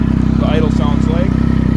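A 2002 Triumph Speed Triple 955i motorcycle engine idles close by with a steady, even pulsing beat, while someone talks over it.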